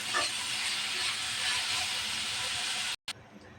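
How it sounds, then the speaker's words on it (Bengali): Boiled red amaranth greens stir-fried with onion and garlic in mustard oil, a continuous loud hissing sizzle close up that cuts off abruptly near the end, then returns faintly, with no talk. "শাকগুলো উল্টে পাল্টিয়ে পেঁয়াজ রসুনের সাথে মিশিয়ে নেব।"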